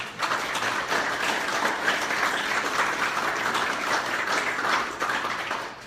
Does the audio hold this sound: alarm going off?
no